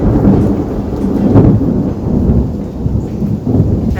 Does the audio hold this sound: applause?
no